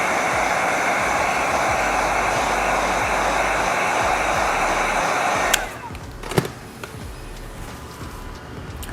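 A heat gun warming headlight tint film on a 2025–2026 Hyundai Tucson blows with a loud, steady airy roar that cuts off abruptly partway through, followed by a few sharp handling clicks and taps.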